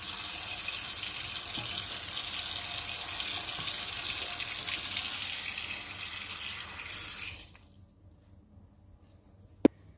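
Tap water runs into a stock pot over vegetables with a steady, fairly loud rushing hiss. It stops abruptly near the end, leaving quiet and a single faint click.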